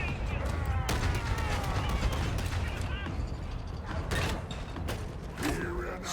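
Rapid gunfire from the Ripper gun in Warhammer 40,000: Darktide, bursts of shots mixed with mechanical clatter and creaks, with a voice talking intermittently over the dense battle noise.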